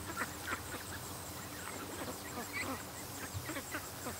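Muscovy ducks quack in a yard, a small group giving repeated short, raspy calls at moderate distance over steady outdoor background noise.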